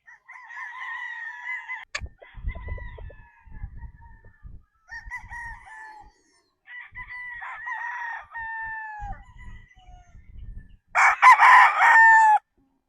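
Several battle stag roosters crow at a game farm, loud repeated cock-a-doodle-doo calls following one another with brief pauses, a louder, harsher burst near the end, and soft thumps and scuffles between the calls.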